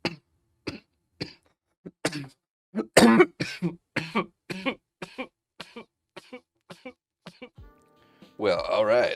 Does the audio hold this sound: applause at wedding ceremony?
no